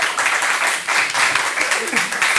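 An audience applauds at a live cultural talk event, a dense wash of clapping rising and swelling in waves, with voices audible beneath it.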